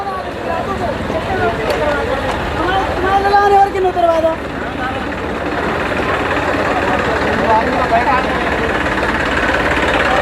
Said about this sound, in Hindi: ये ट्रैक्टर एक अनलोड हो रहा है अभी इधर।